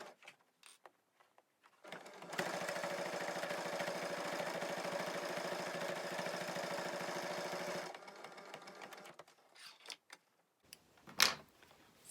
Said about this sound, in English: So just a straight stitch again, sewing that on